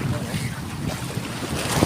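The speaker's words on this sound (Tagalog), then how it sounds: "Yung alon dito sa kabila, saka alon dito, nagsasalubong." Waves meet from both sides at Biliran Sandbar in Pagbilao, Quezon, a low rushing surf churning close by under heavy wind buffeting the microphone.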